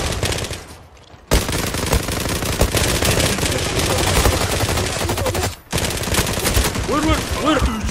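M468 and MPT-76 rifles fire in the online shooter Zula in loud, dense automatic bursts with two short pauses. A voice shouts briefly near the end.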